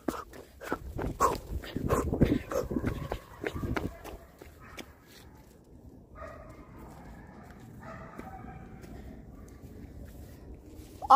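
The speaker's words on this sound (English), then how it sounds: "It's just a dog. I know it's a dog." A dog barks and whimpers outdoors on a wilderness walk, with a burst of loud, close barks and footsteps early on, then fainter yips and whines, while people talk nearby.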